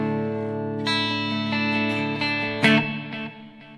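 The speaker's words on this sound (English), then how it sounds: "This is the clean sound," Clean tone from an Enya Nova Go Sonic guitar: a few strummed chords ring out and sustain, with fresh strums near the start and a brighter, louder strike later before the sound fades, played alone.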